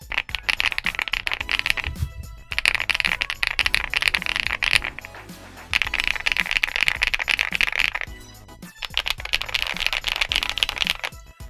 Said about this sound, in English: this keyboard does have that signature HiFi